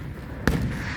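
A single sharp firework bang during a July 3rd show in Montgomery, one sudden burst with a short rumbling tail over quiet background.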